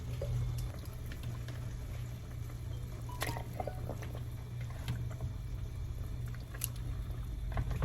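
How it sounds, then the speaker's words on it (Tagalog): A pot of ingredients for milkfish simmers at a steady rolling boil, bubbling and gurgling continuously with occasional small pops and clinks, fairly close and moderately loud. "kumukulo na ang ating mga ingredients"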